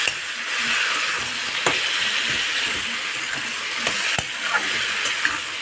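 Tomatoes frying in a pan for a dried fish chutney give a dense, steady sizzle up close, broken by occasional sharp clicks and scrapes of a spatula.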